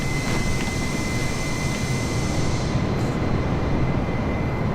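An Airbus A320 cruising at about 7,900 feet in Microsoft Flight Simulator gives off a steady, loud, broadband engine roar with a faint whine, unbroken throughout.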